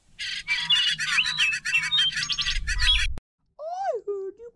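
Thomas & Friends cartoon characters whistle and chirp in imitation of birdsong, a busy run of tweets and trills lasting about three seconds, then a short sliding whistled call after a brief silence.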